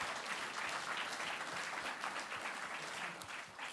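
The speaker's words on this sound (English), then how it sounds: "give yourself a big round of applause" A crowd at an XR awards ceremony claps steadily and evenly throughout, a dense, sustained round of applause.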